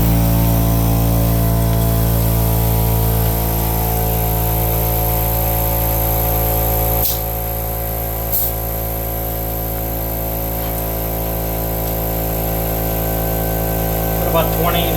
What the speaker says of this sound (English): Start with the air compressor real quick. You go to inflate this, it'll pop right into place.